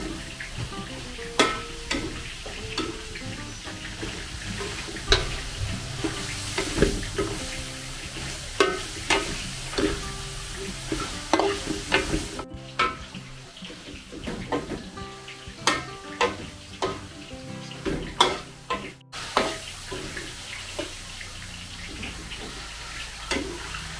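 Cabbage, carrot, broccoli and beans stir-fried in a pan, with steady sizzling, scraping spatula strokes and clattering stirs in uneven bursts, plus brief moments of running water.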